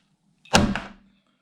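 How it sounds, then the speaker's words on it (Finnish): A skateboard truck slammed down onto its mounting bolts while assembling a Powell Peralta Flight deck, a single loud, close bang that rings out briefly and fades. "Ja sit vaan pamauttaa tällä trukilla."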